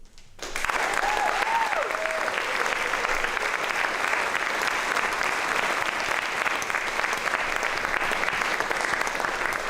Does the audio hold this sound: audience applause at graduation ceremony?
yes